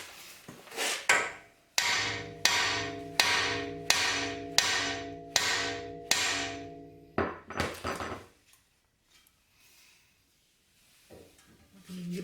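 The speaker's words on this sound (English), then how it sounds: "a lot of times they just hammer on right here and it'll pop right out" Sharp metallic hammer blows strike the old tie rod end on a Mercedes C300, about seven evenly spaced ringing hits close up, each trailing a resonant clang, followed by a couple of quicker knocks and then near silence with faint shuffling.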